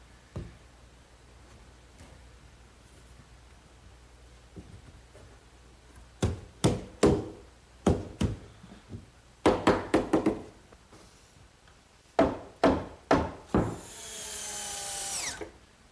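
The bottom piece of a wooden bookcase gets knocked into a glued dado, producing bursts of sharp, close wooden knocks in quick groups of three or four, ending in a brief rough scraping rush.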